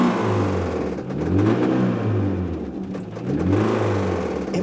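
A Mitsubishi Eclipse engine makes an odd noise: a mid-pitched engine whirring that rises and falls in repeated revving swells, close and steady, with no talk.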